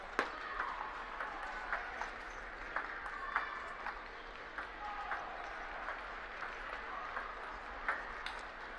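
Applause from the crowd at the end of a quarterfinal match at the 2013 US Table Tennis National Championships. Steady clapping fills the hall, moderately distant and fairly faint, with sharp ticks and pings over it.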